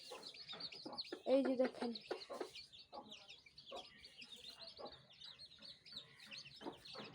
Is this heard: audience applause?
no